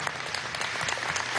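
Brief, quiet applause from an audience at a political party meeting with primary candidates, dense clapping heard at some distance.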